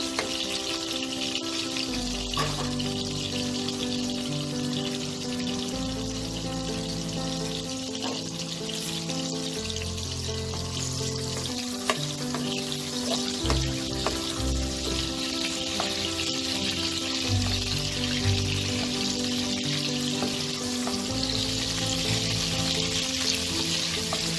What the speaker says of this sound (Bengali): চিংড়ি মাছ খুব বেশি ভাজার দরকার পড়ে না, তেলে দিয়ে কালারটা চেঞ্জ হলেই আমি তুলে নেব।